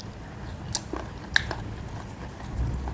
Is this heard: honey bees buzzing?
no